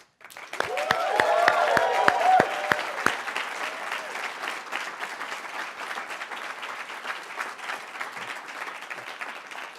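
Audience at the Fletcher Ideas Exchange 2018 applauding for the speakers, dense clapping that swells in the first few seconds, then holds as a steady roar of hands with no voices over it.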